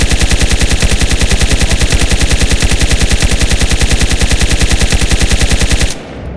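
Sustained rapid automatic gunfire in the survival video game DayZ, a loud continuous burst of evenly spaced shots lasting about six seconds before cutting off abruptly.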